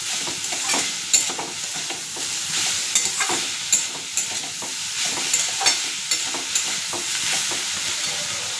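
A spatula stirs salt and turmeric through bharali fish frying in a pan, producing repeated scraping strokes over a constant hiss of hot oil, close and fairly loud with no voices.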